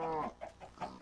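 A chicken in the Minecraft video game clucks in a few short, close bursts, the first longer and louder, the rest quick and choppy, with no talk.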